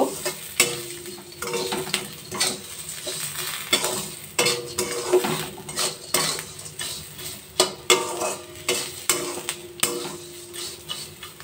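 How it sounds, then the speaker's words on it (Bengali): A metal spatula repeatedly scrapes and clanks against a pan as fried flattened rice, fried peanuts, potatoes and chopped green chilli are mixed together, with a faint sizzle underneath and close, irregular rhythmic strokes. "সব একসাথে এবার মিশিয়ে নেব।"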